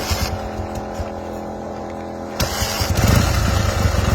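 An old restored motorcycle, the 965, idles with a low, rough rumble, then its engine swells louder and busier toward the end, heard up close without voices.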